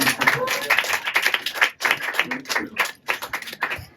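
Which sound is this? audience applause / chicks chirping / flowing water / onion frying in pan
audience applause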